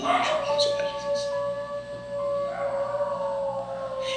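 A dog barks and howls in the background while someone speaks Portuguese over it. The howling is drawn out and siren-like, and the barks come through faintly under his voice.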